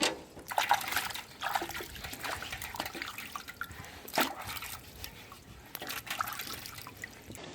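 Lotus tubers freshly pulled from a village pond are washed by hand in water, with continuous close splashing, dripping and trickling and a few sharper sloshes, with no voices.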